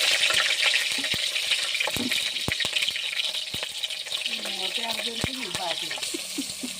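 Green chillies frying in oil for a Telugu-style fish curry give a steady broadband sizzle, with sharp clicks and taps throughout and a voice talking over it toward the end.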